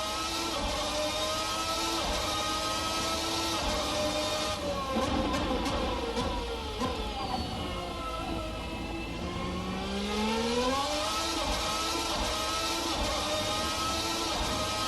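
Formula 1990 V12 race car in Assetto Corsa at full throttle, a loud high-pitched engine wail climbing through the revs with gear shifts and pitch sweeps, steady and close, with no voices.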